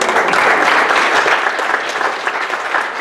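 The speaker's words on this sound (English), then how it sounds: "They deserve a round of applause." Steady applause from a luncheon audience at a church centennial celebration, loud and continuous throughout, with no speech over it.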